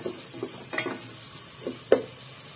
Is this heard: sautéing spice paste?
yes